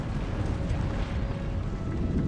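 Cannon shells burst during a period gunpowder battle in Empire: Total War, a continuous rumbling roar of distant explosions and crackling debris, steady and moderately loud with no voices.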